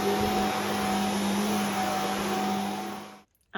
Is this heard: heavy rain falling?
no